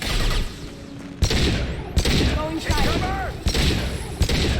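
Gunfire in Mass Effect 2, with several sharp loud shots in a broken rhythm and a synthetic warble between them. A voice talks faintly underneath.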